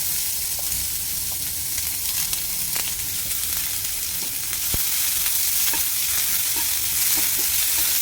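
Garlic fries in a pan with a continuous bright sizzle, steady and fairly loud, with occasional soft clicks of stirring.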